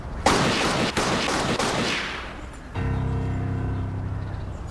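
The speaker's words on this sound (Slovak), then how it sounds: "Strieľame preto, aby si mal šťastie, pán Boran." Celebratory gunshots fired at a wedding crack out in a loud, dense burst of rapid fire, then give way to a sustained ringing, noisy wash.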